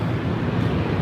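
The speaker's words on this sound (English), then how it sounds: "And here comes a big jet taking off now." A big jet airplane takes off outdoors in Los Angeles on a windy day, heard as a steady, broad, distant roar mixed with blustery wind buffeting the microphone.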